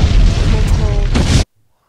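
A loud, sustained explosion effect from an iOS iMovie green screen overlay roars for about a second and a half, then cuts off abruptly into silence.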